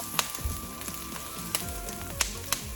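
Garlic and onion sizzle in olive oil in a pan, a steady frying hiss punctuated by a few sharp clicks of a utensil, with a low background hum and no talking.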